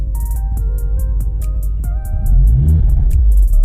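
An Alfa Romeo Giulia 2.0T engine with a Stage 2 tune runs at a loud, close idle and then rises into a heavier rumbling rev near the end, with a faint electronic beeping pattern over it.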